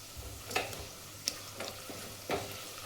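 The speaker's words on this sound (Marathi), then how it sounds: "भाजून घ्यायचे." Turmeric, chopped green chillies and garlic fry in a tempering for toor dal varan, a faint low sizzle punctuated by a few sharp spoon scrapes and taps against the pan.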